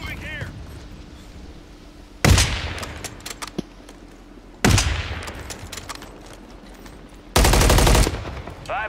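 Bursts of automatic gunfire in Call of Duty Warzone Resurgence, three loud sustained volleys separated by quieter stretches of distant shots and game ambience, with voices talking faintly in between.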